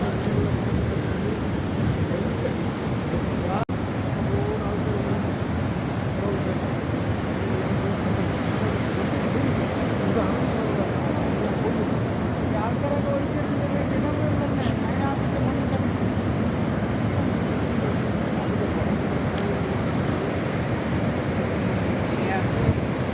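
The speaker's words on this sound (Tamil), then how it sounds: "சரியான கடல் அலைகள்." Sea waves break on a beach in a steady, broad roar, heard outdoors with wind buffeting the microphone throughout.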